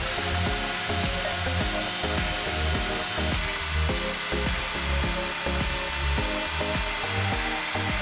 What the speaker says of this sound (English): Use some sandpaper, in my case 80 grit, and power on the drill.